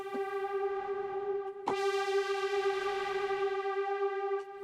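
A Hydrasynth synthesizer patch with detune and noise: a sustained buzzy tone with rich stacked harmonics and a hiss of noise layered in, holding steady for several seconds with a brief click partway through.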